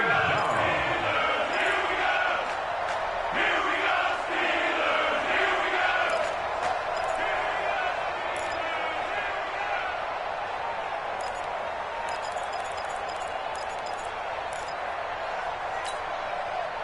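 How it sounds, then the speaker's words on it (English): A stadium crowd in a PS4 football video game roars steadily as a big third down approaches, a loud continuous wash of cheering with a commentator talking over it early on. "the crowd getting into it as we come up on a big 3rd down"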